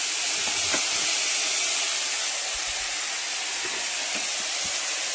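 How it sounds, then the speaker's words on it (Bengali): Dry ground spices sizzle while frying in a pan for a banana blossom curry with prawns. A loud, continuous hiss holds steady throughout, with no talking. "কষতে থাকবো আরও 2-1 মিনিট শুকনো মশলাগুলোকে, নাহলে গন্ধ যাতে না হয়।"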